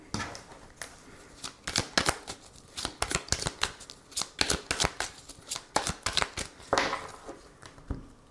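Tarot cards being shuffled and cut, a rapid run of crisp riffling snaps and flicks close to the microphone, alone without talk.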